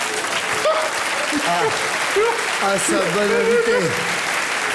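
Audience applause at a Paris comedy stage show, a steady wash of clapping running throughout, with someone talking over it.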